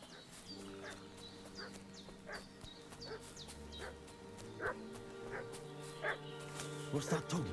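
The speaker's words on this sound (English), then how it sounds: "What's that dog making such a fuss about?" A dog barks repeatedly at a distance in the medieval video game Kingdom Come Deliverance 2, sharp yaps recurring every second or so over steady ambient music and outdoor background sound.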